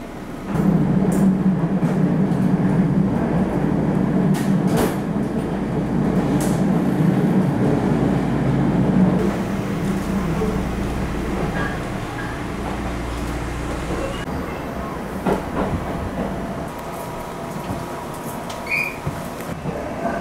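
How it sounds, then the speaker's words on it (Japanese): A JR Iida Line train rounds a curve into Kamikatagiri Station in Nagano, its loud steady interior rumble and rail noise continuous throughout, with faint squeals as it slows. "カーブを曲がり込んで到着の上片桐駅。"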